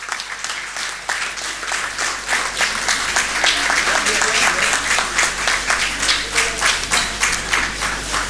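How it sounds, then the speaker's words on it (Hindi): An audience at a literary award ceremony for the Sarthi Sahitya Shiromani Award 2013 claps loudly and continuously, dense sustained applause filling the hall throughout, with faint voices beneath it. "आप जोरदार तालियों के साथ उनका अभिनंदन करिए"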